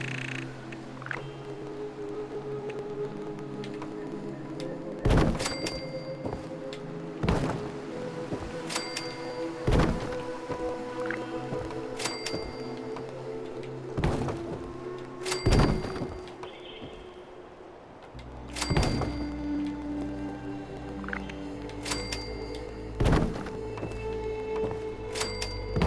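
Wall pieces snap into place while building a base in Fallout 76, heard as a series of sharp thunks and clunks spaced a few seconds apart over a low game ambience.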